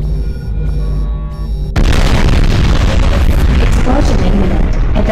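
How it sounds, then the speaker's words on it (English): A core explosion in the Roblox game Magic Research Facility, heard as a loud tonal alarm-like hum that suddenly breaks into a massive sustained roaring boom filling the scene, with a continuous rumbling blast that does not let up. "Explosion imminent. Evacuate the facility immediately."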